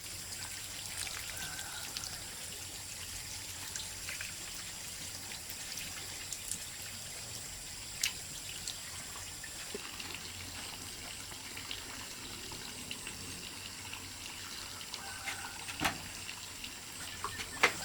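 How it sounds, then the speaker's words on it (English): Faint, steady trickle of water pouring onto garden soil, quiet and continuous with occasional soft drips, no voices. "water falls softly into the soil"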